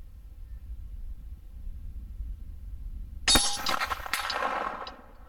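A Henry single-shot 45-70 rifle round striking a steel target at about 207 yards, a single sharp distant clang with ringing decay after a stretch of low background rumble.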